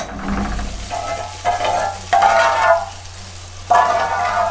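Water pours into a hot pot of pasta, lentils and rice, hissing and sizzling loudly in several surging bursts with brief lulls between them, close up and with no talking.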